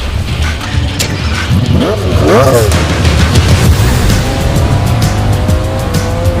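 A three-seat car pulls away for a ride, engine revving loud and close with a brief tire squeal, under a continuous low rumble and some chatter.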